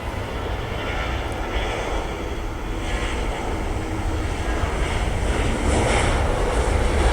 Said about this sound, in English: Alright, there's another one, guys, landing.